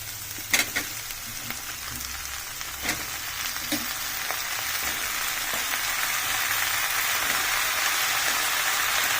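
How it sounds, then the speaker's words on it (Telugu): Eggplant pieces frying in a pan with fenugreek leaves, a steady broadband sizzle that builds and thickens over time, with a few sharp clinks and pops early on and no talking. "ఇప్పుడు వంకాయలు వేసుకుందాం దీంట్లో."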